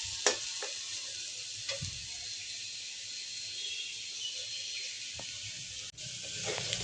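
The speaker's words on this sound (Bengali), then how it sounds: "আমার চালটা সুন্দর করে ফ্রাই করা হয়ে গেছে" Rice frying in a pan for Bengali bora rice gives a steady, close sizzling hiss throughout, broken by a few light scrapes and clicks from stirring.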